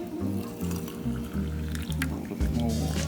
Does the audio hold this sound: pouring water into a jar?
yes